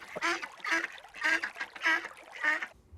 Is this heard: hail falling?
no